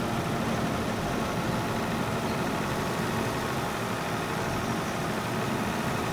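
A tractor engine in Farming Simulator 22 labors under heavy load while turning a PTO and climbing a hill, a continuous low rumbling drone that stays loud and unbroken with no talk over it.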